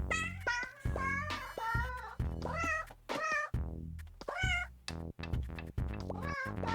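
Cats meow again and again in the video game 100 Robo Cats, a quick run of bright, varied meows, some drawn out, others clipped, close and lively with no talk.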